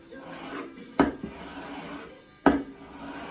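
Chisel's secondary bevel honed on the job, two sharp rasping strokes against a stone standing out at moderate loudness from a quiet background, with no talk.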